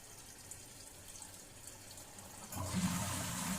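A toilet with a concealed air-button flush tank flushes after a quiet stretch of faint hiss, a sudden rush of water rising and continuing steadily near the microphone, with no talking.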